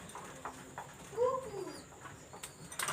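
A male pigeon gives a short, rising and falling coo, close but quiet against faint background noise, followed by a few soft rustles.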